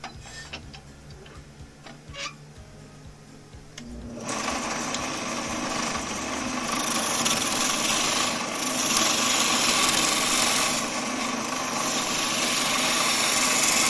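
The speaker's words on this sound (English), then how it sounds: "with a peeling cut, it's a little bit different because the tool is just going right into where the rings are and peeling those off" A wood lathe with a gouge making a peeling cut into spinning wood, starting as a quieter whir and then swelling into a loud, steady rasping scrape that continues to the end.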